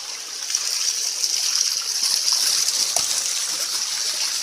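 Rushing water flows steadily and fairly close, a broad hiss with small splashes, continuing without pause.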